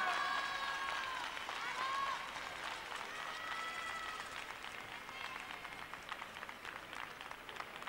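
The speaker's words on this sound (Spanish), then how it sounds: "Se oyen palmas andaluzas" Spectators at the 1990 Rhythmic Gymnastics European Championships clap in Andalusian-style rhythm, a dense, steady beat from the crowd in a large arena, with a voice speaking over it.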